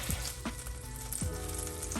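Bacon and chicken frying in a pan, a steady close crackling sizzle with intermittent pops and soft clanks from stirring, no talk.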